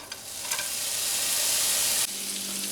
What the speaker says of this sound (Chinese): 加一点底油、葱姜蒜